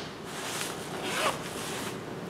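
A quiet, short pull of a skirt's center-back zipper, a soft rasping zip lasting about two seconds.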